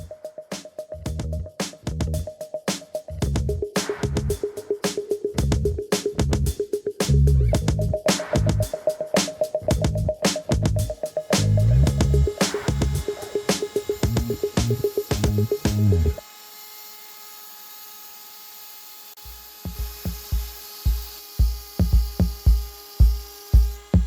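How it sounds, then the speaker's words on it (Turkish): A small drill bores into wetted seashells to make holes for jewelry, giving a steady whining motor tone with rapid rhythmic grinding pulses that stop abruptly. A few sharper knocks follow. "Şimdi bu deniz kabuklarını delmeden önce ıslatacağım."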